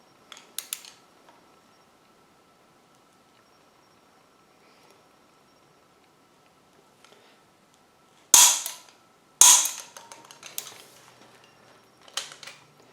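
Two sharp, loud clicks from a torque wrench reaching set torque on Oldsmobile 455 engine bolts, a rubber dead blow mallet holding the crankshaft still, with fainter clinks and tool handling before and after.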